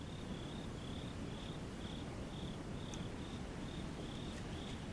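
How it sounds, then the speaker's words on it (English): Crickets chirp at night along the Line of Control in a steady, faint pulsing rhythm against a low, quiet background hum, with no other sounds. "All one can hear in the distance is the sound of crickets."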